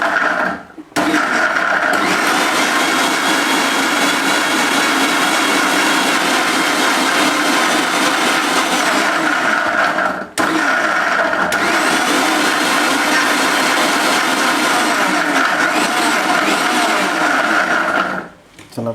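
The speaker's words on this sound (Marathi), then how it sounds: "याला असं 3 ते 4 वेळा असं मिक्सीमधून फिरवून घ्या." A kitchen mixer grinder whirs loudly while blending a dates and milk shake, running in two long steady bursts of about nine and seven seconds with short pauses between, and no talk over it.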